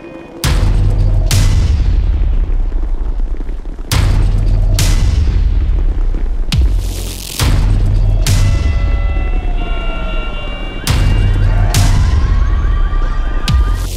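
Heavy explosions from incoming enemy fire in GTA 5 boom repeatedly, four loud, close blasts with long rumbling tails and ringing tones between them.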